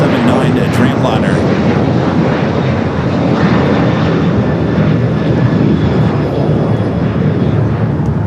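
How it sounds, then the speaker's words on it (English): A Boeing 787-9 Dreamliner starts its takeoff roll at LAX, giving a loud, steady broadband jet roar that holds throughout, with wind buffeting on the microphone. "as we wait for the Dreamliner to start its roll there on the north"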